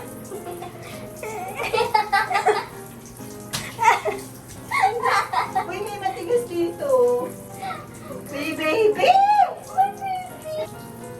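Shower water runs steadily while an adult bathes and scrubs a squirming child, the spray sitting under near, frequent adult talk with brief child vocal sounds.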